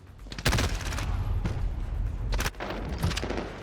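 An MP7 submachine gun fires in Call of Duty in several loud, rapid bursts with sharp cracks and booming low tails, close and punchy, separated by brief pauses.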